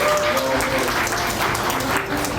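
Guests at a Christian wedding clap together in a dense, steady round of applause that fills the room evenly from start to finish, loud and close, with no pauses.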